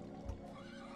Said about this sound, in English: And there's a dying horse.